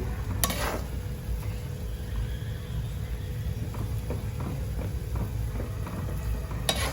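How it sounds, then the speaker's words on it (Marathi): Milk shev bhaji curry, a Nashik-style dish of gram-flour sev in a milk gravy, simmers in a pan with a steady low bubbling and occasional soft clicks and stirring taps, close and moderately loud with no talking. "उकळते आता"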